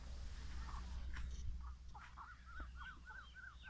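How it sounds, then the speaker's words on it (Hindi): Aseel chickens, a hen and a rooster, call with a run of short rising clucks that grow clearer toward the end, set against a steady low background rumble. "मुर्गियाँ हैं, एक मुर्गा है, एक मुर्गी है।"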